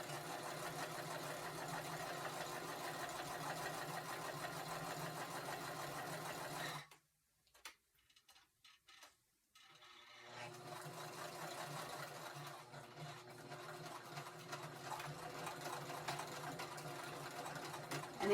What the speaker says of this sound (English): I'm going to reinforce this sewing a little bit more up at the top to add strength